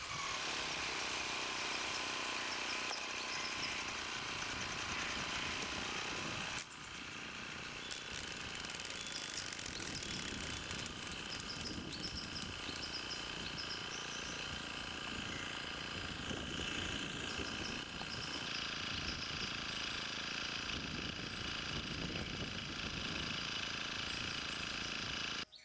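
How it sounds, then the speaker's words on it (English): A brush cutter fitted with a sharp chisel blade runs continuously at high revs, its loud buzzing engine roaring steadily for the whole stretch with a brief dip early on as it bites through a sapling. "Do it with a sharp chisel blade and you will easily cut right through this sapling."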